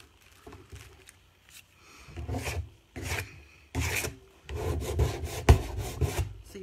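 Paint being chipped off wooden furniture for a distressed look, heard as a series of close rasping, scraping bursts in an uneven rhythm with brief pauses between strokes.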